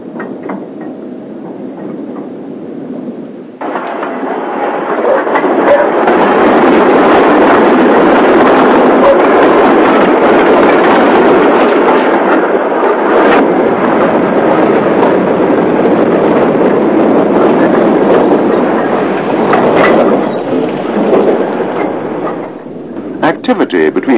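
A train rumbles along the Cromford and High Peak Railway in 1960, a steady broadband roar with wind buffeting that builds after a few seconds and holds loud for most of the run.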